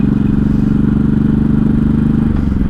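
A 1983 Honda Shadow VT750C motorcycle rides along in a steady low engine drone with a throbbing pulse and wind rumble, loud and close throughout, with no talk.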